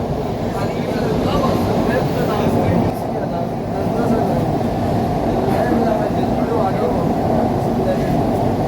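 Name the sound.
Kolkata metro train running under the Ganga river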